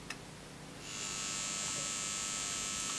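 An Akafusion Akatherm CB315-U electrofusion unit starts up after repair, a faint tick followed by a steady electrical buzz that rises in under a second and then holds loud and even to the end.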